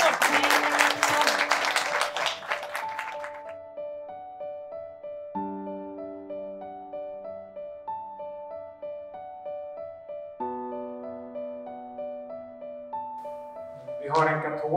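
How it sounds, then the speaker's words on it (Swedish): Audience applause fills the first few seconds, loud and dense, then fades out as clear sustained melodic tones take over. A short noisy burst returns near the end. "Stort tack, en applåd."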